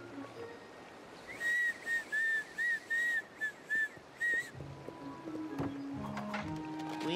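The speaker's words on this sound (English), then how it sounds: "Sometimes, when I'm scared to try something new, I whistle." A cartoon character whistles a short tune of about eight clear, bright notes with brief gaps between them, followed by quieter background sounds and faint clattering.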